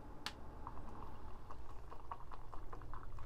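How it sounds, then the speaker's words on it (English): A spoon stirring homemade coffee brewing water with a mineral additive similar to baking soda, heard as soft repeated clicks and light taps over a steady low background hum, close and quiet. "Just gonna stir it."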